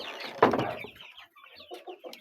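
Chickens and chicks clucking close by: one louder burst of clucks, then a run of softer, scattered clucks and peeps in a quiet setting.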